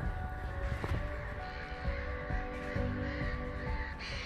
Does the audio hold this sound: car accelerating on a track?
no